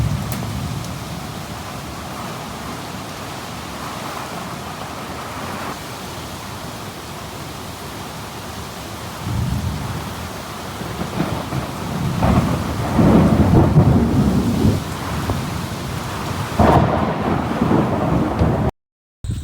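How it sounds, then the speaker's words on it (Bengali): Thunderstorm with heavy rain: a steady wash of downpour with low rolling thunder swelling louder in the second half, close and enveloping, no voices. "তাই তুফান শুরু হয়ে গেছে"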